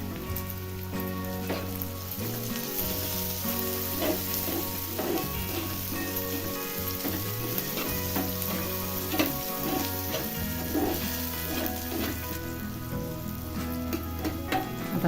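Chopped, washed and seeded tomato roasting with onion in a pan, a steady loud sizzle with soft stirring scrapes throughout, and a faint melodic tune playing underneath.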